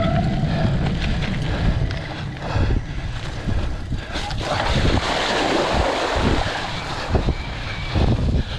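Riders splash through the water feature of a men's C cyclocross race at Stafford Lake: a continuous rush of churning water and spray, loud and close, with surges of splashing and buffeting wind noise throughout.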